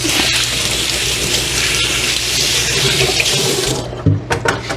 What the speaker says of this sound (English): Let me just give my hands a little rinse.